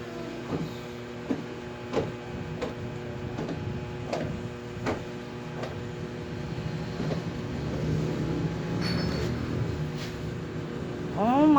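A car is driven in the Roblox video game, with a steady engine hum and a string of evenly spaced clicks. The engine swells toward a rev at the end, and a voice is faintly present.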